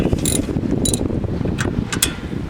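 A hand ratchet wrench snugs brake caliper bolts on a third-generation Dodge Ram, giving short bursts of quick metallic clicks over a low mechanical rumble close by.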